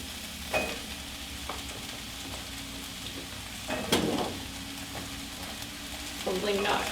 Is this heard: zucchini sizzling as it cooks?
yes